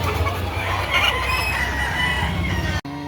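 A rooster crows loudly nearby at a chicken market in Lipa City, Batangas, on a drizzly day, a long drawn-out call, over a background of other clucking fowl.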